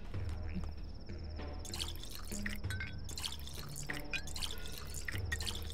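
Water trickles and drips as bottles are filled in the video game Pathologic 2, a steady run of drips and splashes over a constant low background hum.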